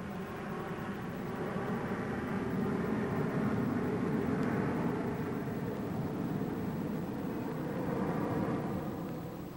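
A supersonic aircraft passing as a steady, broad engine roar that builds gently, holds for several seconds and then eases off, fairly faint and with no voices.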